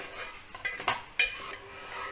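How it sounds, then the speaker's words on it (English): A spoon scrapes and clinks against a pot while curd and spices are mixed for egg biryani, giving a few soft, close knocks and scrapes over faint kitchen background noise. "Meanwhile, now I am adding some curd. Mix all the spices."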